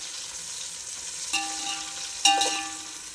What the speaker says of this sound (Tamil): இதுக்கப்புறம் நம்ம பச்சை மிளகாவையும் தக்காளியும் போட்டுடலாம் தக்காளி கொஞ்சம் நல்லா வதங்கட்டும்